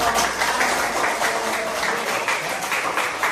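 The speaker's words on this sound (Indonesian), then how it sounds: "Tepuk tangan dulu untuk" Applause from a class for a discussion group, a steady dense patter of many hands clapping close by for the full length, with no break and only faint murmur beneath.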